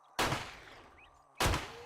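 Two loud, sharp gunshots about a second apart ring out in the zombie survival video game 7 Days to Die, each with a short decaying tail.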